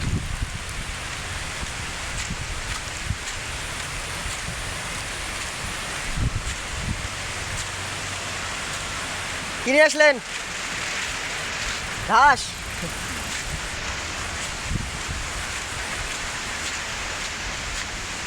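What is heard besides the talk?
rain falling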